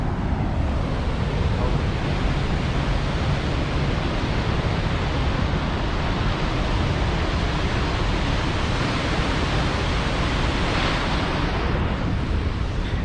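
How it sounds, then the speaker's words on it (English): A waterfall in a Kentucky state or federal park roars as a dense, unbroken rush of falling water, loud and close, holding steady for the whole stretch. "Check it out, we found the waterfall."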